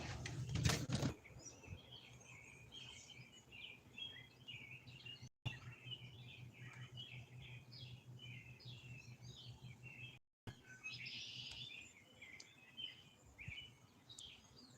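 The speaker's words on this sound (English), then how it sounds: "And I hear red-winged blackbirds." Faint, distant red-winged blackbirds call repeatedly in a wetland-like setting, chirps and trills over a low steady hum, with a brief rustle at the start.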